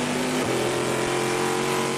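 An aluminum-block V8 race engine with titanium valves screams at high revs during a Baltimore endurance race, a loud continuous roar with a brief pitch dip, no voices over it.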